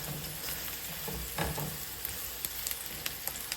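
Onion sizzles in hot fat in a pan, a continuous crackling hiss with some scraping stir noises and a few sharp clicks near the end, close and alone.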